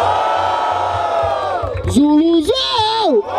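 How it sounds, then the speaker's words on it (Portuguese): Audience at a freestyle rap battle in Barueri, Brazil, yells and shouts loudly and close, a sustained roar with a rising voice cutting through near the end. "Barulho para as rimas de Michael"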